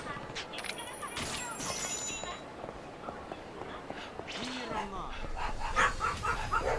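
A voice imitates a dog barking, a quick run of repeated bark sounds voiced close and loud, over faint game background sounds.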